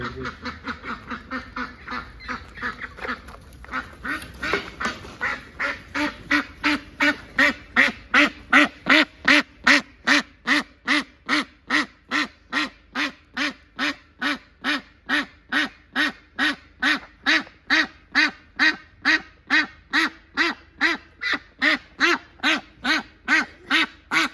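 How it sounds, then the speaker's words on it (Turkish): Rapid, loud duck quacking in a steady repeated rhythm, many calls overlapping close by, building in intensity after a quieter start. "Ördekler."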